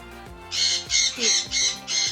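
A sun conure parrot gives five harsh, evenly spaced squawks, loud and close, over a quiet background.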